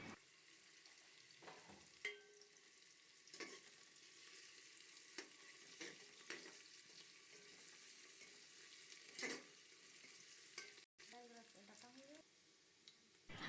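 Sliced onions and two dried red chillies fry in a pan, giving a soft, steady sizzle with occasional stirring clatters and scrapes, close up and fairly quiet.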